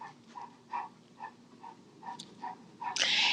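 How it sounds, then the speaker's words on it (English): A large dog pants quietly in the background in soft, regular breathy pulses, about two per second, with a louder burst of noise at the end. "that is my large dog you hear panting in the background"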